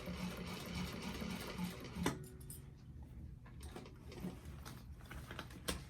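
A sewing machine stitches a bag seam in steady mechanical runs, its rhythmic whirring and needle clatter close and continuous, pausing briefly around the middle before resuming.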